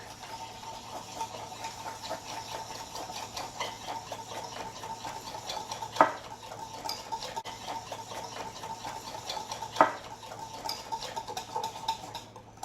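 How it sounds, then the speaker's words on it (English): A Pampered Chef whisk beating crab dip ingredients in a bowl, giving a fast, steady, light ticking rhythm close up, with two sharper knocks against the bowl along the way. "I'm going to take my Pampered Chef whisk and just whisk that together."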